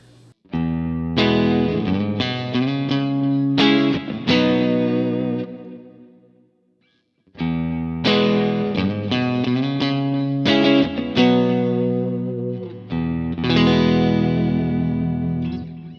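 Electric guitar through a Kemper amp profile on the studio default setting, effects-laden tone, chords and picked notes ringing out in two phrases separated by a short pause, no talking.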